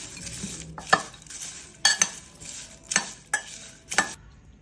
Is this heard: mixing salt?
yes